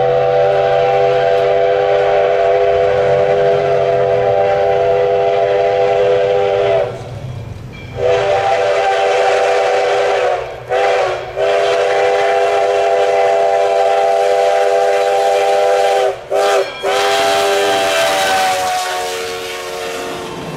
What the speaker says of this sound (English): as the train cuts through the boar hammock